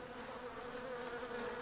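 Honey bees buzz steadily inside an open hive during a winter check, a dense, even drone with a low hum running throughout, alone and close.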